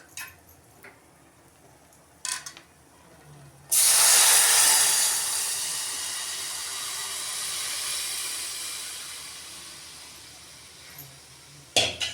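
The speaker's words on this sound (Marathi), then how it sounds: "आता आपण याच्यामध्ये घालणार आहे ताक," Buttermilk poured into a hot turmeric tempering for Maharashtrian kadhi sets off a sudden loud, steamy hiss that slowly fades over several seconds, preceded and followed by a few light clatters of a pot.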